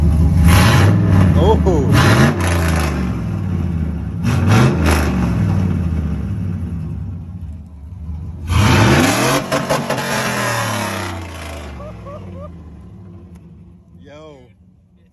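A Chevy 6.0 truck engine running straight-piped through a Flowmaster Super 10 with no muffler, revving loudly in several heavy bursts that settle back to a rumbling idle, with a brief voice in between.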